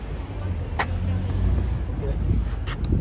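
Cars roll past on a West Village street in New York City, a low traffic rumble that swells and fades over a few seconds with faint city background.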